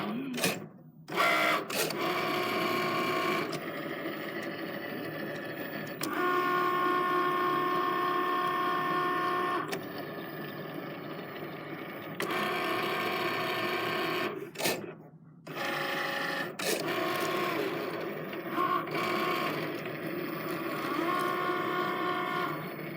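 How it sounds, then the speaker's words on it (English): A vinyl cutting machine slices out a simple letter at fast speed, giving off a close, buzzy whirring and stuttering motor hum in bursts, broken by several brief pauses as the blade repositions. "all of the machines are just mesmerizing to watch. I could sit there and just watch them cut."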